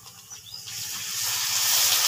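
Ginger-garlic paste hits hot oil with green chilies for a fish curry. A soft hiss builds into a loud, steady sizzle that swells over about two seconds.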